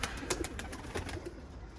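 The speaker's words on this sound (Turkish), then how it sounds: "Evet bakın kuşlar" Pigeons coo softly near their loft on a windy day, giving a few low throaty calls over faint background noise.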